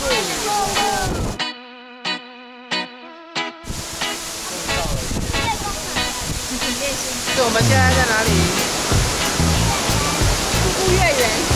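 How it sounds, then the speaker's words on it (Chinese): Virgin Falls, a forest waterfall in Manyueyuan National Forest Recreation Area in Sanxia, New Taipei, roars close and loud. People talk over the steady rush, and a short run of tonal beeps briefly cuts in near the start. "我们现在在处女瀑布。"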